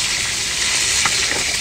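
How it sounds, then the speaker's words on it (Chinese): Scallion, ginger and garlic hit hot oil as they are stir-fried before seafood goes into the pan, giving a brief, steady, loud sizzling hiss with no talking. "葱姜蒜爆香啊！"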